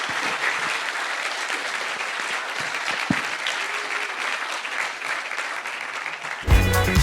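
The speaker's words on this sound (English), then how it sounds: "Big round of applause, please, for all these people." Sustained applause from an audience at a fintech recruitment event, a dense, steady roar of clapping hands filling several seconds, ending abruptly with a short burst of louder, different sound.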